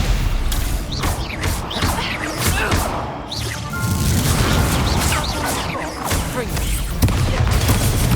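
Spells fire in close succession during Hogwarts Legacy combat, with dense crackling blasts, whooshes and impacts over a continuous loud game soundscape. A voice calls out between the effects.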